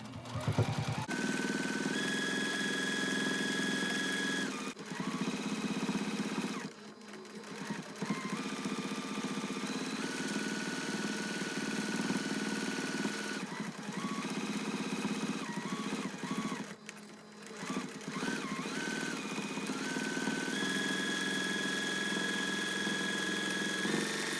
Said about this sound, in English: I'm just going to sew it with a 1/4 inch seam, maybe a little bit more than a 1/4 inch.